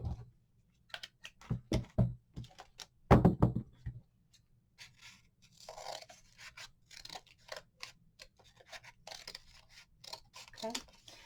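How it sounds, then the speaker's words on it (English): Scissors snip through craft line during gnome shoe making, a run of sharp, close, uneven cuts and clicks followed by quieter rustling handling sounds, with a voice speaking softly in between. "I'm going to cut my line."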